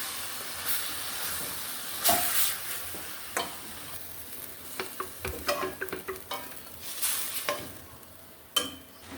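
Chowmein noodles tossed and stirred with raw vegetables in a home kitchen pan, giving intermittent scraping stir strokes and soft hiss with a few sharper clatters, close and fairly quiet, no talking.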